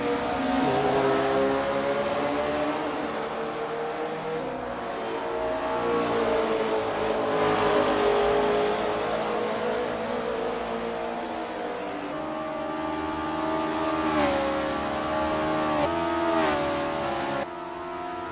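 A Honda S800 RSC race car in the Assetto Corsa sim, racing at Macau, holds a loud, steady engine drone that climbs and falls in pitch through gear changes, with brief dips as it lifts and shifts.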